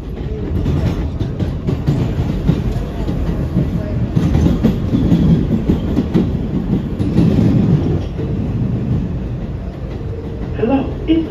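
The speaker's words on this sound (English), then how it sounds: "This is a Queensbound A local train." Rumble of a New York City Subway R211A car on a Queensbound A local, a steady loud roar with wheel clatter throughout, while a recorded onboard announcement speaks over it.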